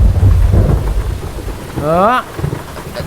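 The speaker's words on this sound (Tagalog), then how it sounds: "Sugas ulan." Heavy rain pours with deep rumbling thunder, a loud, continuous low roar throughout, and a brief rising tonal whine near the end.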